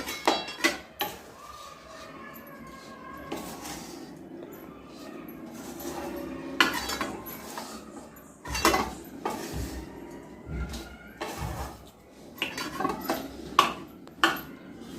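Gum laddoo mixture (dink ladu, made with halim seeds) stirred in a metal pan, giving irregular scraping clinks and knocks of a spoon against the pan at close range, with no talk.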